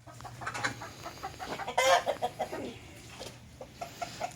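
Chickens cluck in short bursts near and farther off, with one louder squawking outburst in the middle.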